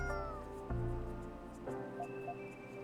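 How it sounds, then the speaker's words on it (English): A cat meows a few times in the video game Coffee Talk, soft and fairly close, over a steady hum of background music with faint ticking. "Do you have a new pet cat then?"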